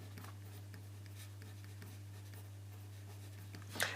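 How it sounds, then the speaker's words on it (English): Pen or pencil scratching out SOHCAHTOA by hand during a calculator maths revision problem, a soft, quiet patter of strokes over a steady low hum, ending in a brief louder scrape. "I'll write up SOHCAHTOA"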